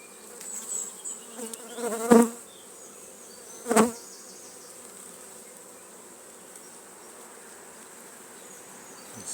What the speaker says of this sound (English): I'll just move those bees away a little bit.